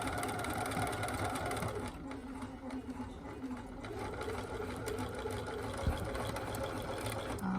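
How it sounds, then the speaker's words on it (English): A sewing machine stitching around an elastic casing hums along steadily with a fast mechanical whir and brief pauses, fairly close. "So I've been stitching all the way around and I'm almost to my pin."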